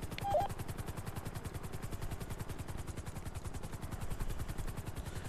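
A helicopter in a video game drones with a steady rapid rotor chop throughout, moderately quiet, with a brief faint clatter near the start.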